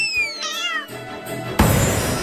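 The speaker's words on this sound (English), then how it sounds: "Such a little fluffy kitten." A kitten meowing, several high thin meows in quick succession at close range, followed by a louder rush of sound near the end.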